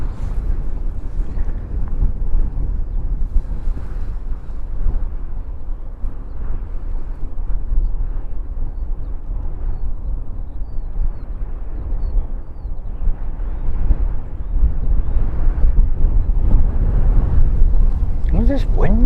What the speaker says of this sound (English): Where's this wind coming from all of a sudden?